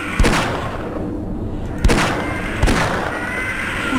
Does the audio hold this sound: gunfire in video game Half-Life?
yes